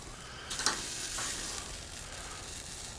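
Grand Western wagyu filets sizzling over the flame on an SNS travel kettle grill: a steady, close frying hiss with a few brief clatters near the start, no talking.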